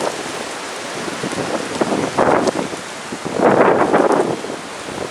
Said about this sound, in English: I'm watching the wind.